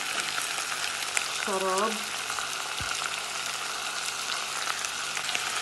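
Tomato, hot chili and onion sizzling together in a pan, a dense continuous frying hiss with a faint spoken word and a short clink partway through.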